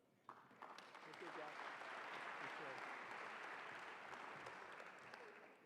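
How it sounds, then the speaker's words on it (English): An audience at a university convocation applauds a newly introduced provost, a sustained, even swell of clapping heard softly, as if from a distance, with a faint voice under it. "thank you for the applause"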